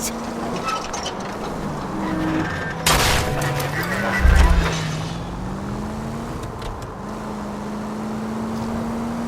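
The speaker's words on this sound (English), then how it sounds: "All units, shots fired, officer needs help." Gunfire erupts in the L.A. Noire video game: a sharp crack of shots, then a heavy low boom a moment later, all riding over a steady drone of a car engine with no voices.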